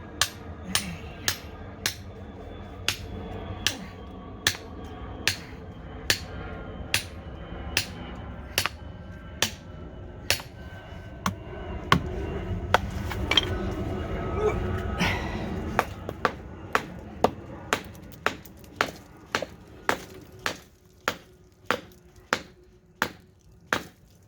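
Sharp, regular chisel strikes hammer at a blocked sewage drain, dozens of ringing metallic impacts in a steady rhythm, close and loud, with a denser scraping stretch midway.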